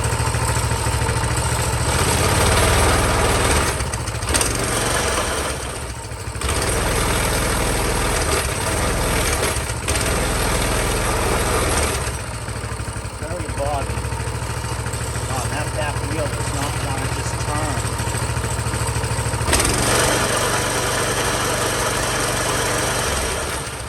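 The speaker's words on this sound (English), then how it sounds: "Seems to be running on choke all right." A Honda CT200U motorcycle engine idles on choke, a steady close putter with a slightly rough, knocking rhythm and occasional dips, while someone talks over it.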